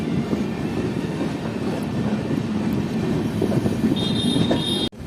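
Amrit Bharat Express passenger train pulling out of Rampurhat Junction station, a steady loud rumble of wheels and carriages running continuously, with a brief high whine near the end before a sudden dip.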